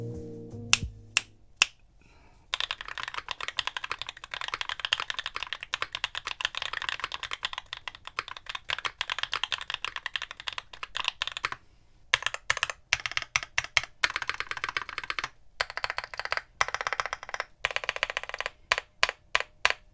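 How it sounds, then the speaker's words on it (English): Typing on a GeonWorks F188 mechanical keyboard with a V1 aluminium plate, lubed and filmed Camping Life linear switches and GMK Ursa keycaps; steady rapid keystrokes, close and clear, with brief pauses and a burst of separate clacks near the end. "Today we'll be looking at the GeonWorks F188 with a V1 alu plate built with lubed and filmed Camping Life switches."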